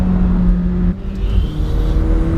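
A 2017 McLaren 720S turbocharged sports car engine revs high through the rev band, a loud, sustained close-up drone from inside the car that dips briefly and then climbs again.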